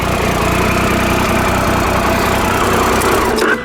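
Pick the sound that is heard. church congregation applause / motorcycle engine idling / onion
motorcycle engine idling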